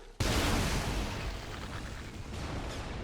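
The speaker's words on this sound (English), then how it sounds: "Hand grenade throwing" A hand grenade goes off in a Warhammer 40k video game: a sudden loud blast that trails into a long, dense rumble lasting several seconds.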